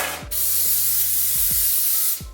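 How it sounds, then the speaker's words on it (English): A steady hiss of cooking spray from an aerosol can onto aluminum foil, lasting about two seconds, close and loud, with a few soft thumps around it. "spray that with cooking spray"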